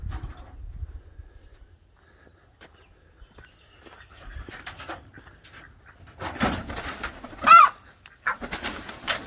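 Pigeon-like cooing beside a wire-fenced backyard poultry pen, soft and sparse at first, then a louder run of coos and calls near the end, fairly close, with faint rustling and no talk.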